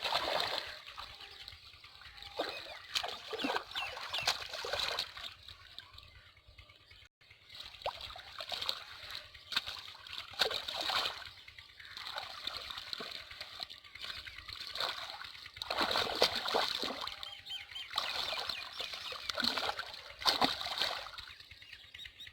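Irrigation water flows steadily into a field channel on a farm in rural Punjab, Pakistan, giving a continuous rushing splash with a few birds calling faintly in the background.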